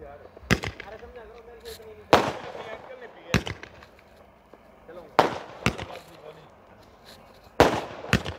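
A Cock Joy 240-shot sky shot firework cake bursting outdoors, giving sharp loud cracks at irregular intervals with fainter pops between them, while someone talks over it.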